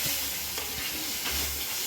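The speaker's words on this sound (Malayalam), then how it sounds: "പച്ചമണമൊക്കെ ഒന്ന് മാറുന്നവരെ നന്നായിട്ട് നമ്മൾ ഇളക്കിക്കൊണ്ടിരിക്കുക." Onions fry in a pan for a prawn roast, turning brown while being stirred, a steady close sizzling hiss with faint scraping movements throughout.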